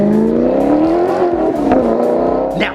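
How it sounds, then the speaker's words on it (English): A Maserati's exhaust roars close by, the engine revving hard with a deep, throaty growl and a sharp blip near the end. "With that beautiful exhaust note, you are gonna be turning heads when you sound like this"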